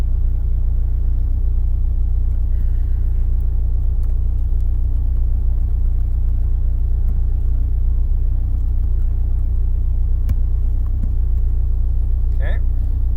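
A 2005 Subaru STi with a built engine runs steadily during tuning, a loud constant rumbling drone that holds throughout, with a brief chirp near the end and no talking.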